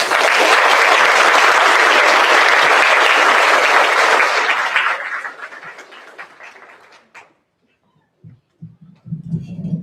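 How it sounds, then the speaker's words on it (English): Loud applause at a California Green Ribbon Schools recognition ceremony, a thick burst of clapping from a large audience that fades out after about five seconds, followed by near silence and a few low thumps and handling noises. "Please join me in giving him a huge round of applause."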